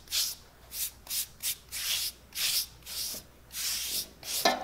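A worker wipes acetone across the soles of resoled Thorogood boots to clear off residue, making a series of loud, close rhythmic rubbing strokes, about ten short swipes in steady succession with no talking.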